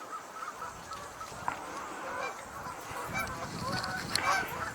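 Greater white-fronted goose, orange-legged, honking in a few scattered calls over a steady outdoor background, fairly distant and moderately loud.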